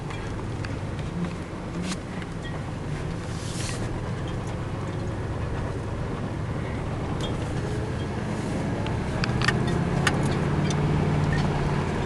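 A car rolls along a gravel drive with a steady, low rumbling road noise from the interior, the crunch of stones faint beneath the continuous drone.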